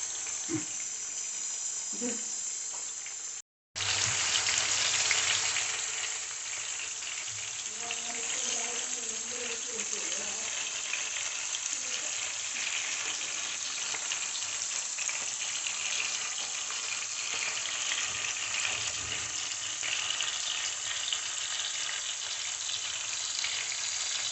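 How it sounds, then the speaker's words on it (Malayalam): Parava fish fries in a pan, a steady, moderate sizzle and crackle that runs throughout, broken briefly by a short dropout near the start, with faint faucet-like water sounds around it. "മീനെല്ലാം നല്ല സൂപ്പറായിട്ട് വറുത്ത് കോരി"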